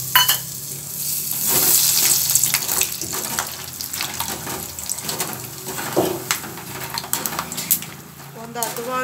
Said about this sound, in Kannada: ಎಣ್ಣೆ ಕಾಯ್ದಿದೆ, ಇವಾಗ ಕಡಲೆ ಬೀಜ ಹಾಕ್ಕೊಂಡು ಕರ್ಕೊಳ್ಳೋಣ